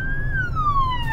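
A police car siren wails past on a city street, its steady tone sliding downward as the vehicle moves away, loud and close with traffic rumble underneath.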